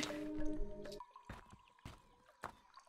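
Water drinking in the survival game Tribe Primitive Builder: a series of wet gulping splashes and drips, roughly four distinct slurps spaced about half a second apart, close and fairly quiet.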